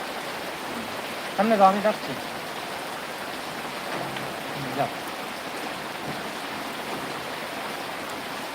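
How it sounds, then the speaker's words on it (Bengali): Rain falls outdoors as a steady broadband patter and hiss, with a person talking briefly near the start and a few soft knocks over the continuous wash. "বৃষ্টি হচ্ছে"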